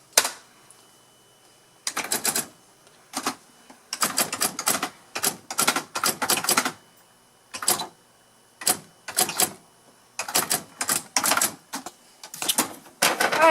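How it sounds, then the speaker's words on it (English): A vintage word processor clatters away in typewriter mode, delivering bursts of rapid, loud keystrikes that run in uneven clusters separated by short pauses, with no talking over it. "typewriter is just what you would expect, so I'm going to test that out real quickly"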